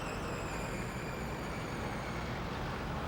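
Rush-hour city traffic forms a dense, continuous roar of passing cars, buses and trucks, steady and unbroken with no distinct single vehicle and no voices.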